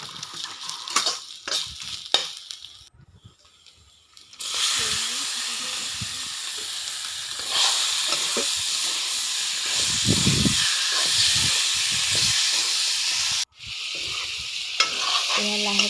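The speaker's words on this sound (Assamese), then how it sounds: "তাৰপিছত এয়া আদা নহৰু জিৰাখিনি পিছা ইয়াতে দি দিওঁ তেলতে।" Ginger, garlic and cumin paste with turmeric and salt frying in oil, a loud steady hiss and sizzle that bursts in after some clattering and stirring, cuts out briefly, then resumes near the end.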